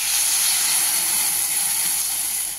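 Water poured into a hot pan of papaya curry sets off a loud, steady steaming hiss and sizzle close up that fades slightly at the end, with no voices.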